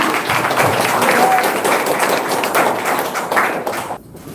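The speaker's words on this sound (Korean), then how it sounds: "큰 박수로 맞이해 주시기 바랍니다" Audience applause welcoming a lecturer to a humanities talk on Pocheon's cultural heritage, a dense, steady wash of clapping that fills the whole stretch and cuts off abruptly near the end.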